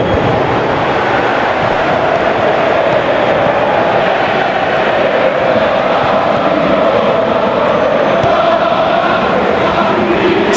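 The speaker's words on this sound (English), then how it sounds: "you can feel and hear how the crowd are reacting to all of this" Roaring stadium crowd in the football video game PES 2018, a steady loud wash of cheering and noise that holds without a break throughout.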